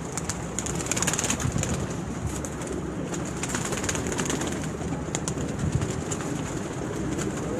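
Pigeons coo softly at close range amid steady outdoor background noise, their low repeated calls running throughout alongside scattered bird chatter.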